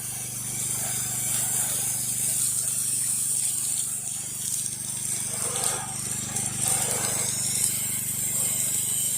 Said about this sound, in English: we are using the M5 downstream twist soap nozzle. It is working just fine.